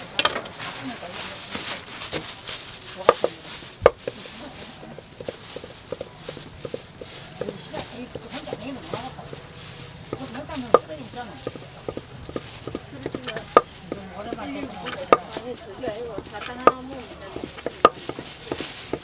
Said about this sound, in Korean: 그냥 썰어.